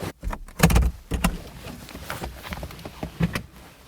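Manual fabric soft top of a Mazda MX-5 Homura edition being pulled down by hand, a quick series of close clunks, rustles and latch knocks with a few sharp mechanical thumps, no talk.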